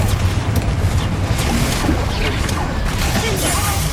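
Confringo explosive spells are cast repeatedly in Hogwarts Legacy on PS5, with booming blasts and crashes layered over a steady, dense wash of combat noise.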